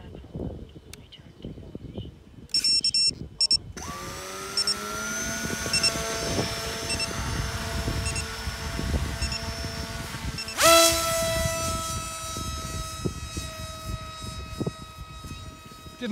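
The electric motor of a Sonicmodell CF flying wing RC plane whines up at launch, a sharp rising tone that climbs again mid-clip, heard over wind noise and outdoor rustling.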